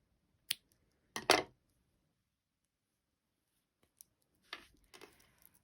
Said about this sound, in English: now I'm gonna snip the last color